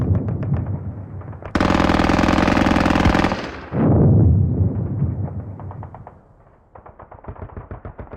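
Heavy machine gun fire in the Squad Battles Eagles Strike war game, loud rapid bursts of shots with a long sustained burst, then a blast and a trailing string of single shots.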